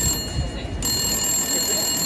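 A telephone rings inside a phone box, a steady continuous ringing tone heard fairly loud for about two seconds with a rumble of background noise and no talking.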